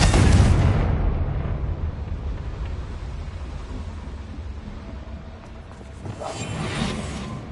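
A blasting spell detonates in the Hogwarts Legacy video game, a loud booming burst up front that rolls into a long rumbling decay, with a second swell of debris noise near the end.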